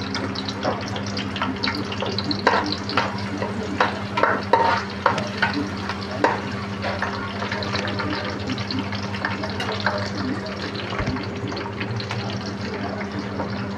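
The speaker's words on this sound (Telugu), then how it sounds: "కొంచెం ఆనియన్ నూనెలో వేయించుకుంటే టేస్టీగా ఉంటుంది" Onions frying in oil for a fish curry, a steady loud sizzle with frequent stirring clatter and scraping, plus a low constant hum of a stove or kitchen appliance underneath.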